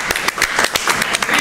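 Studio audience applause on a Spanish-language TV talk show, a short burst of scattered claps with a few sharp individual hits, fairly close, mixed with light voices.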